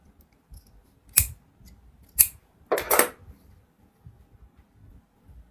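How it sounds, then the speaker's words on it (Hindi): Scissors cut a fabric strip for a kurti, making four crisp, close snips spaced about a second apart, the last two in quick succession, against a quiet background. "कैंची हमने बिल्कुल सही ध्यान से चलानी है कि बराबर हमारे पट्टी तैयार आए।"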